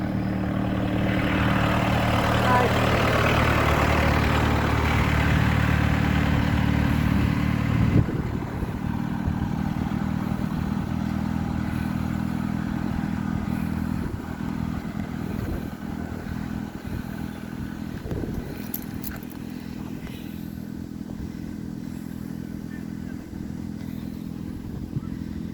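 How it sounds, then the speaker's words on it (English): A road vehicle rolls past on a Sunday walk, its engine a loud, close rumble for the first several seconds that then fades into a steady background of outdoor noise and distant traffic. "Another vehicle coming by, excuse the noise."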